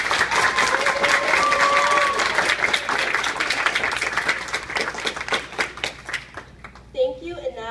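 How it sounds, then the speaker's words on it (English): A school auditorium audience claps for new National Junior Honor Society inductees at a charter academy ceremony. The applause is dense and sustained, then thins out, with a voice beginning to speak near the end. "please join me once again in applauding all of our new Honor Society members"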